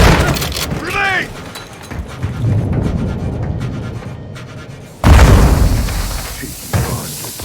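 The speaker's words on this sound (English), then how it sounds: "Grenade!" A grenade detonates in the Modern Warfare 2 campaign, a deep heavy boom bursting loud partway through amid game gunfire, ambient noise and shouted voices.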